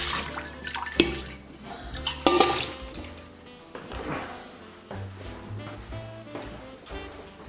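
Water splashing and running as the inner bowl of an 8-quart Instant Pot is rinsed, with close, irregular gushes, sloshes and a few clanks against the metal.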